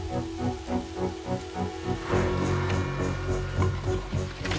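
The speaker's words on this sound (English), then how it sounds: "It's raining now." Steady rain hiss builds suddenly after a rhythmic pulsing hum, becoming a dense, broadband patter that continues to the end.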